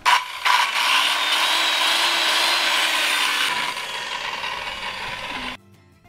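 A handsaw cutting through a wooden platform for a Toyota Yaris camping setup, a few seconds of continuous rasping strokes up close, ending abruptly in near silence.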